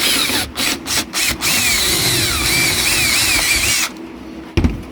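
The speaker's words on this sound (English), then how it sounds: "So what I'm planning on doing is drilling a little hole right there." A power drill whines loudly and steadily close by while drilling a small hole, with a few brief stutters at the start, then cuts off abruptly near the end.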